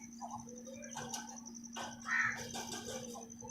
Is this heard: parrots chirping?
yes